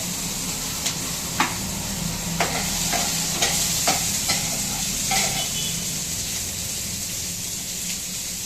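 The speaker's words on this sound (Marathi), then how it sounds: "थोडे जिरे टाकले. म्हणलं तडका मारून घ्यावा जरा." Cumin seeds sizzle in hot oil for a tadka while rice is being fried, a steady hiss broken by scattered sharp clicks of stirring.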